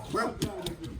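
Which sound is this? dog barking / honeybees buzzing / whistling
dog barking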